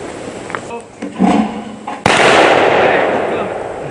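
A shotgun fires a single loud, sharp blast at a clay target outdoors on a 4-H shooting range, followed by a long decaying boom. Brief talk and a shouted call come just before the shot.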